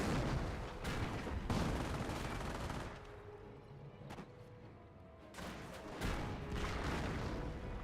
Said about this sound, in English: Short barrel Panzer IV gains some excellent hits there